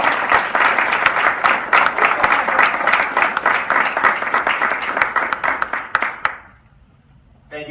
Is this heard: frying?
no